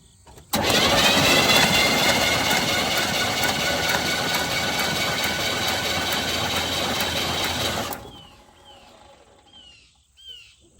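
A 1977 Chevrolet K10 that hasn't run in years, cylinders filled with Marvel Mystery oil, cranks over loudly on the starter for about seven seconds without firing, then falls quiet, leaving faint birdsong outdoors.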